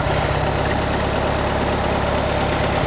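A 1957 VW Beetle engine idles loud and steady with a dense low rumble, its note holding constant throughout with a slight rise in revs and no talk over it.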